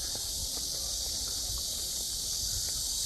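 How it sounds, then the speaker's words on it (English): Cicadas drone in a loud, continuous high-pitched hiss beneath a bridge at Imjingak Park near the Korean DMZ, with faint footsteps and rustling in the background. "Get the sound of cicadas."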